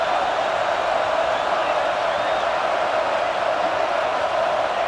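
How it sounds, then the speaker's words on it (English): A steady, dense roar from a huge home crowd at Saban Field in College Football 26, a continuous wash of noise at constant loudness on a third down in an Alabama Crimson Tide football game. "The Tide crowd roaring noise down onto Saban Field on 3rd down."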